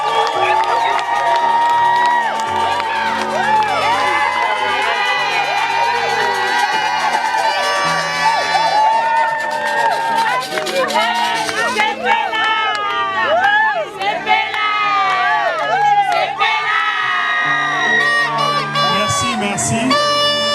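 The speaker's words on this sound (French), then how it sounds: "Nous pouvons acclamer." Wedding guests at a ceremony in Champaign, Illinois cheer and whoop as a crowd, with shouts and ululating cries rising over lively music and a continuous, loud, celebratory hubbub.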